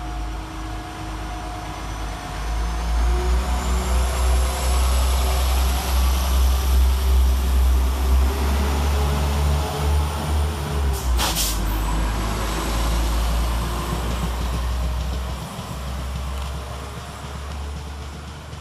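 A West Midlands Railway diesel train departs Olton station, rumbling and pulling away with a low engine drone, a brief sharp hiss midway, and steady rain noise throughout.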